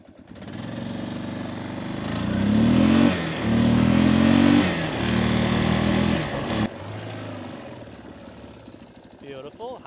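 A 1993 Yamaha Big Bear 350 ATV with a failing CV joint, its engine idling, then revving up and down in gear with rising and falling labored drone, dropping back to a lower rumble near the end; someone talks over it.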